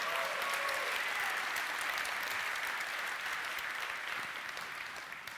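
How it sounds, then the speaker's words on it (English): A keynote audience at an Nvidia GeForce RTX launch applauds, a dense, even wash of clapping from a large crowd that holds steady and then slowly tapers off. "you got to clap at the old stuff too"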